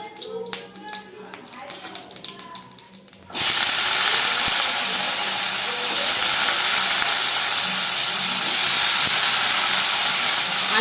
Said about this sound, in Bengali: এরপর আর একটু তেল দিয়ে দিলাম এবার আলুটাকে ভেজে নেবো